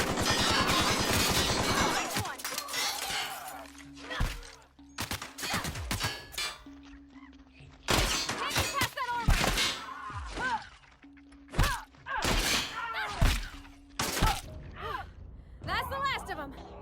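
Gunfire and combat in the video game The Outer Worlds, with loud sharp shots, thuds and impact cracks in irregular bursts, mixed with grunts and game effects, and a voice talking over parts of it.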